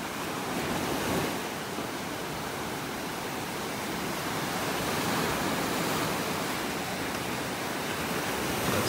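Ocean surf rolling onto a beach in North Naples, Florida, a steady broad wash of breaking waves with some wind noise, continuous and fairly loud with no voices.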